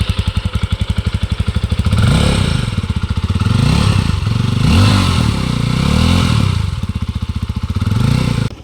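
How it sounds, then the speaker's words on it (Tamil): A Jawa 42 FJ 2024 motorcycle engine runs at a close, loud, rapid thumping idle, rising into several revs and dropping back between them. "வண்டியோட சவுண்டை கேளுங்க."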